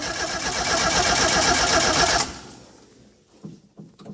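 Starter motor of a 1973 Alpine V85 1300 cranking hard for about two seconds as the car struggles to start, a loud, busy churning that cuts off abruptly, followed by faint clicks and small knocks.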